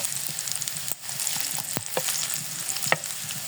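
Oil frying in a pan for aloo chop, cooking ingredients to a light brown, a steady crackling sizzle with a few louder scrapes of stirring, close and continuous with no talk.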